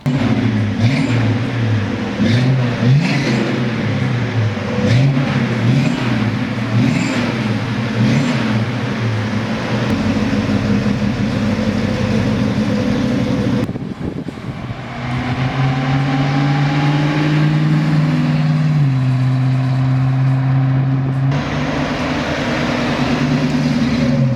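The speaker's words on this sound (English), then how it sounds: "How about I fire it up for you so you can hear what it sounds like?" A 1971 Ford Mustang Fastback engine runs steadily and loudly, with repeated revs in the first half, a brief dip, then sustained higher-pitched revving near the end.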